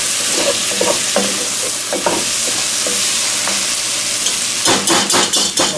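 Garlic and vegetables sizzling in a pot for white chicken chili, with a steady fry hiss under repeated scraping stirs of a spoon, the stirring clattering faster toward the end.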